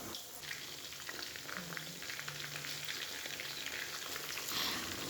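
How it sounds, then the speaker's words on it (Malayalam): Three chicken pieces frying in hot oil for a simple chicken fry, a steady soft sizzle and bubbling that runs continuously at low level with faint clinks. "അതവിടെ എണ്ണയിൽ കിടന്ന് നന്നായിട്ട് ഫ്രൈ ആയിട്ട് വരട്ടെ കേട്ടോ."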